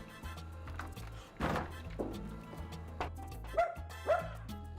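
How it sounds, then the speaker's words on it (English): A tiny, excitable dachshund gives a few short, high yips and barks at a home, fairly faint against steady background sound with some dull thumps. "She's got a little dog, a tiny little dachshund, and she's a bit excitable."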